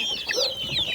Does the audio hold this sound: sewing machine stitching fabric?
no